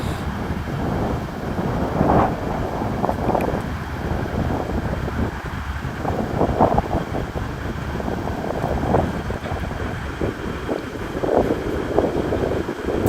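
Wind buffets the microphone of a drone flying over an industrial waterfront near a dry dock, producing steady rumbling noise with gusty surges throughout and no voices.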